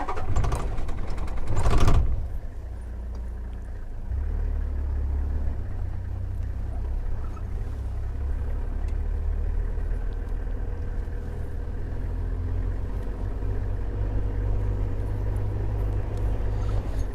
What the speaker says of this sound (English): All right, so we're gonna drive along.